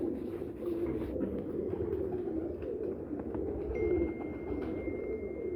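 Pigeons kept by a breeder coo softly in low, rolling calls that repeat and overlap, close by against a steady low background hum.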